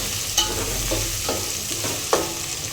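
Green chillies and tomatoes fry in a pan with a steady, close sizzle, broken by a few sharp scrapes and clinks as a spoon stirs them. No voices.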